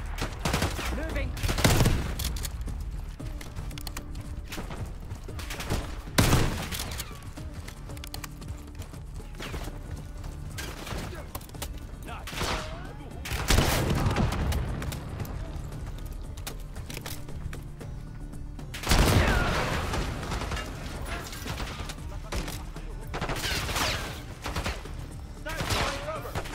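Bursts of gunfire in Call of Duty Black Ops 6 come in several loud volleys spread through a continuous game battle din, with shouted callouts in between.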